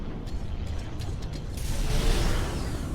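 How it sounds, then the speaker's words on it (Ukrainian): Giant ventilation fans in the Dead Space Remake grind to a halt, a loud, dense mechanical whir with creaking, ratcheting clicks that swells into a broad rushing wash as the machinery winds down. "Зупиняю вентилятори."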